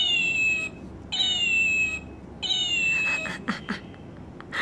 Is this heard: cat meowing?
yes